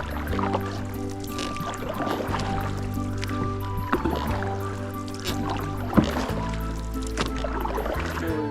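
Big raindrops splash onto a lake around a canoe in Algonquin in May, scattered soft plops against a steady low background drone, with no voices.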